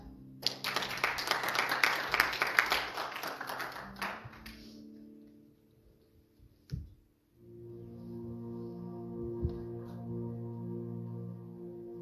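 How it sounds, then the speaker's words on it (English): A church congregation claps for American soldiers during a Sunday morning worship service, a burst of crowd clapping lasting about four seconds before fading, then a quieter sustained organ-like tone with a single sharp knock. "would you give the American soldier a hand clap?"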